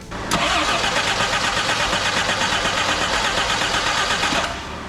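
Jeep CJ7 engine cranking over on the starter, a loud, close, steady rhythmic churning that runs for about four seconds without catching, then stops.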